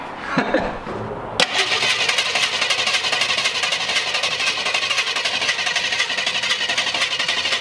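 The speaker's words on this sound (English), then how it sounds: "we're gonna go ahead and just crank on the engine here and see if it'll start pulling fuel from the tank" A 1966 Mustang engine with a new mechanical fuel pump cranks and catches, with a sharp onset followed by a loud, steady, rumbling run close by.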